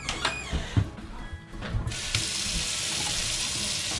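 A kitchen tap runs steadily into a sink as husked black walnuts are rinsed, with a few clunks and handling knocks at first before the water settles into a continuous close rush.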